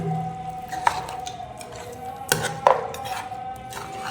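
Potatoes with their skins on drop into a pan of mutton gravy, giving a couple of distinct clunks and clinks of metal cookware over a low kitchen background, close and without speech.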